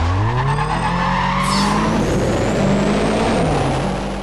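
Ford Focus in Need for Speed World pushed to top speed, a loud continuous engine note climbing in pitch through gear changes, with tire and wind noise and no talking.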